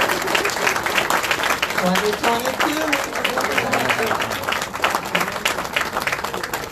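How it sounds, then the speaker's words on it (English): An audience claps steadily in a theater-like hall, dense and continuous, while a voice calls out over it and someone hums or sings briefly in the middle. "Bring her on with the round of applause."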